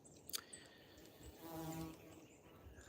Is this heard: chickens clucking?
no